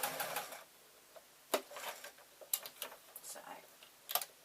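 A sewing machine sews leaf shapes in folded cloth for a jelly-roll-strip tote bag, heard as faint, irregular ticking bursts and short mechanical clatters with quiet gaps between them.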